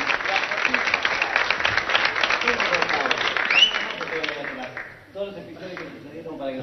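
Studio audience applause with steady dense clapping that fades toward the end, where talking takes over.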